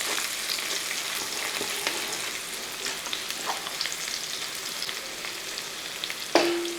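Green chillies, ginger and garlic fry in a pan and are stirred, giving a steady close sizzle with scattered scraping clicks and a brief metallic scrape near the end.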